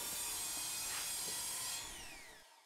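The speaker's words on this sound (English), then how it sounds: "I'm just gonna find that existing bevel, match it up, and make passes to create a new clean edge." Ken Onion Mk2 belt sharpener with a 120 grit belt grinding the edge of a floor scraper: a steady, close abrasive whir with a tone that drops as the belt winds down at the end.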